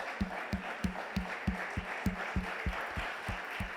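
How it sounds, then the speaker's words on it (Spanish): A church congregation claps in a steady, even rhythm, about three claps per second, under a dense wash of crowd noise and scattered applause in the room. "¿Por qué no le das un fuerte aplauso al Señor?"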